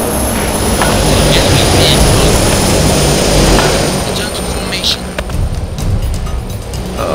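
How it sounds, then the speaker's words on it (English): C-130 cargo planes fly over in the video game Arma 2, a loud, steady engine roar that fills the whole clip and eases slightly toward the end, with shouting voices underneath. "Did you guys see those C-130s coming in?"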